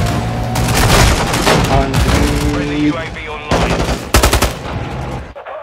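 Gunfire in Call of Duty Modern Warfare II rattles in loud, rapid automatic bursts with booming impacts, close and dense, while a person talks over the action.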